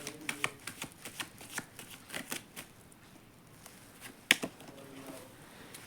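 Tarot cards are shuffled and drawn by hand, giving a quick run of crisp papery flicks and taps, with one sharper snap near the end, fairly quiet and with no talking.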